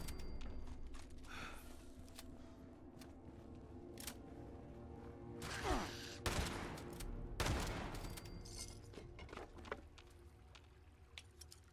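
Shotgun blasts ring out inside a mine in the video game Fallout 76, a few loud booming shots with sharp attacks spaced irregularly over faint background hum and mechanical clicks, no speech.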